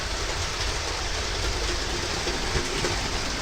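A passing train gives a steady broadband rumble and rushing noise, fairly loud and even throughout with no voices.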